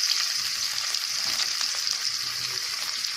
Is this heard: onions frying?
yes